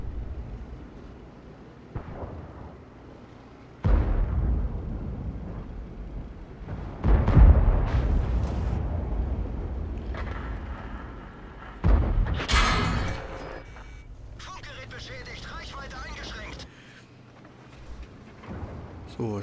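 Booming explosions, cannon fire and sharp bursts of gunfire punctuate a rumbling battle soundscape in a video game, with someone talking over the top at times.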